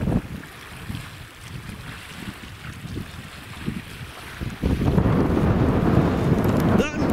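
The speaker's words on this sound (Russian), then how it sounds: "Ну и волны присутствуют." River waves churning and splashing against a moving vessel, with wind buffeting the microphone; the water noise swells louder and closer in the second half.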